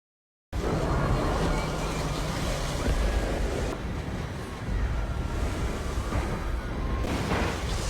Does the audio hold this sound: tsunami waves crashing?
yes